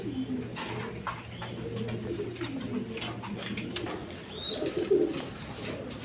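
A pair of pigeons coos softly and steadily at close range, low rolling calls with a few faint chirps over quiet background hum.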